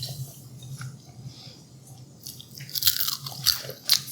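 Crunchy bites into fresh-cut homemade french fries, a soft muffled chewing start followed by several sharp, close crunches toward the end.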